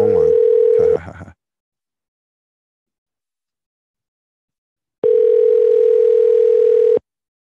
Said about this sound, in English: I'm gonna dial him one more time because it looks like he hit me back.